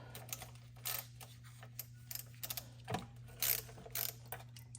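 A hand ratchet works on a bolt while a G56 transmission is being swapped, giving short bursts of clicking separated by pauses over a steady low hum.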